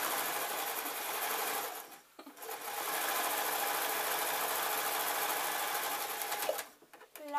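A domestic sewing machine stitching satin for an apron runs in a steady, close whir, stops briefly, starts again for a longer run, then halts.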